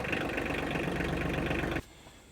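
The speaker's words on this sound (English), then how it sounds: "A four-wheel drive tractor is invaluable." A four-wheel drive tractor engine runs with a loud, steady, close diesel chug and rattle, then cuts off abruptly, leaving quiet.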